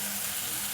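Mutton stir-fries in hot oil, a dense steady sizzle heard close and continuous for a short moment.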